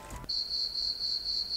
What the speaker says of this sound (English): I think we're going to hear crickets on that one.